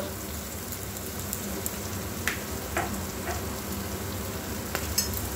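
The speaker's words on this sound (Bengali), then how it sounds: "হালকা করে একটু নাড়াচাড়া করে ভেজে নেব।" Onion and capsicum with chili flakes sizzle and fry steadily in a pan, with occasional soft scraping clinks of a spoon stirring through them.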